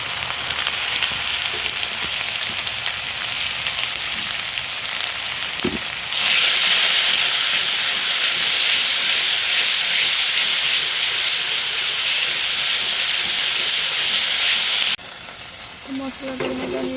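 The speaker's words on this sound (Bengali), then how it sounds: "মশলাটা ভাজা হয়ে গেছে।" Salt, turmeric, cumin and coriander frying in hot oil for a fish-head and soya chunk curry, a steady loud hiss and sizzle that surges louder midway then eases, close up with occasional stirring.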